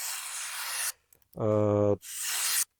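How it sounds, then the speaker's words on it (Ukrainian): A small Cold Steel Luzon knife slices through ordinary A4 paper, two rasping cutting strokes with a short buzzing tonal sound between them, close and loud. "перевіряємо, як ножі будуть різати. Звичайний А4, маленький Cold Steel лузон. Добре ріже."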